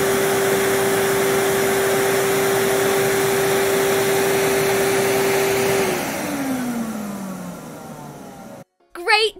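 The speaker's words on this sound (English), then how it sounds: "That sucking sound was the vacuum cleaner." A household vacuum cleaner runs with a loud, steady sucking roar and a sustained motor whine, then powers down with a falling pitch as it winds off, ending in a brief silence.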